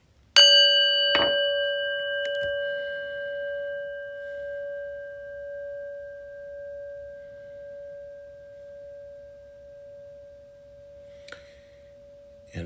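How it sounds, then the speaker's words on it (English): A single prayer bell is struck once, ringing out with a clear metallic tone that hangs and slowly fades with a gentle wavering over many seconds, followed by faint small knocks near the end. "And a prayer bell."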